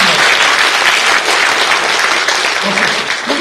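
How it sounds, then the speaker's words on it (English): An awards-event audience claps loudly and continuously, a dense wash of applause from a large crowd that fills the whole moment without letup. "You smile and applaud."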